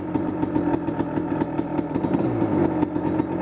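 A rebuilt 1999 Kawasaki KX250 motorcycle engine runs up close, loud and steady, with a fast, rattly, pulsing beat and no pauses.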